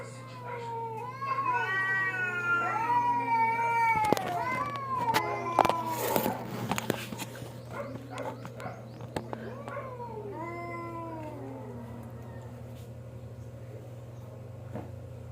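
Two cats fight and roll together, trading drawn-out yowls and caterwauls that rise and fall, with scuffling thumps midway and a quieter spell toward the end over a steady hum.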